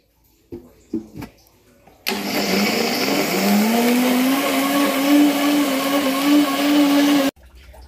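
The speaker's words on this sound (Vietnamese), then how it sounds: "Bây giờ thì mình sẽ cho lá dứa vào trong máy để xay." An electric blender grinds pandan leaves: a loud, steady whirring drone that starts abruptly, rises slightly in pitch as it settles, runs for about five seconds and cuts off, preceded by a few soft clunks as it is loaded.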